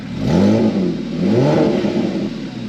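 A Porsche Cayman S 987.2 engine revs hard twice with exhaust valves open, a deep, raspy exhaust roar swelling and dropping close by, loud and unaccompanied.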